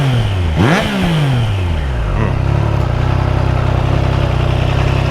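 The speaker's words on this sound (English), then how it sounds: "Exhaust has got a nice note to it." Triumph Trident 660 motorcycle revving hard, engine pitch sweeping up and down in quick blips near the start, then settling into a loud, steady throaty exhaust drone up close, with no talking.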